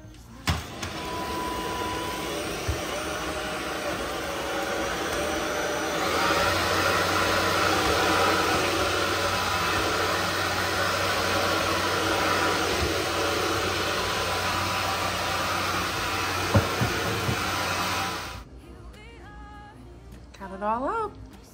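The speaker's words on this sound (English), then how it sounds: "So vacuum that up really quick." A Proscenic vacuum cleaner runs steadily while sucking up spilled cat litter, a loud continuous whir for most of the stretch that cuts off abruptly near the end, followed by a few soft household sounds.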